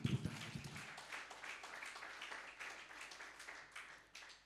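A church congregation applauding during a service, with steady, dense clapping from many hands at a moderate distance, sustained throughout and faint.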